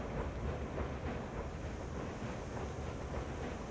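Train rumbling steadily in the Railroads Online video game, a continuous low rolling noise with faint wind-like hiss, no talking.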